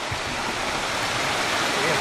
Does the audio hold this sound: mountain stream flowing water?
yes